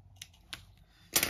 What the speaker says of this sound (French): je vais couper un bout de scotch double face